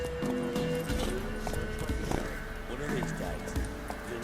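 Roach, the horse in The Witcher 3, gallops with a quick, rhythmic clip-clop of hooves and a brief whinny, close and fairly loud, while someone talks over the running hoofbeats.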